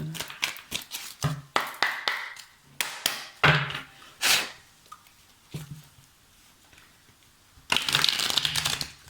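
Oracle cards are shuffled and drawn by hand, giving close riffling and tapping bursts with soft handling noises and a louder final shuffle.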